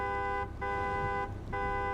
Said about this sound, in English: The honking attracted the attention of some random dude